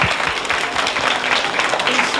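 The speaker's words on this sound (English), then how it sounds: "Clap for him, please." A school audience claps for a pupil, a brisk, even burst of many hands applauding close by with little talk over it.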